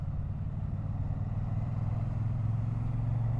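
A 2025 Triumph Bonneville T100 motorcycle with pea shooter exhausts, a steady low rumbling exhaust note heard while riding, continuous and fairly even, building slightly toward the end.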